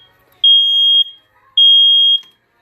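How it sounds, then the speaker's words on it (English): A smoke detector under test during a home inspection sounds two long, loud, piercing beeps, each about half a second, separated by a brief pause, with nothing else audible. "We test smoke detectors to see if they're working."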